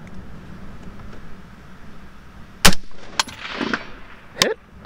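BCA 20-inch M16 A3 clone rifle firing Hornady M193 ammunition at a windy outdoor range, a single sharp near crack followed by a fainter report, over steady wind noise.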